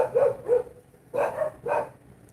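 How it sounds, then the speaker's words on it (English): Dogs barking in the background at home, four loud, close woofs in two pairs with a short pause between them, alone without any talk. "I hope you are not distracted with the dogs barking in the background."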